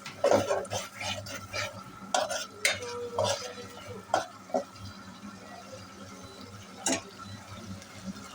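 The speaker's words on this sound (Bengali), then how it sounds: "মশলাটা আমি ভালো করে কষায় নিলাম" Spice paste (masala) being stirred and fried for potato curry (aloo dum), with repeated scraping and clinking of a utensil against the pot over a low sizzle, in irregular strokes close by.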